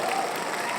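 A live audience at a podcast taping claps in a short, dense burst that fills the room, with some voices mixed in.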